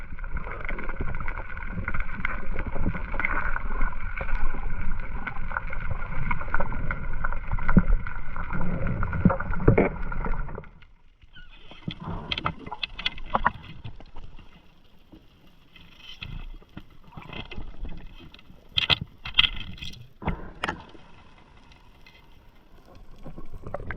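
Small boat out on the sea after a day of spearfishing, with steady engine or water rumble for the first ten seconds, then gentler sloshing and wind buffeting with scattered knocks and splashes.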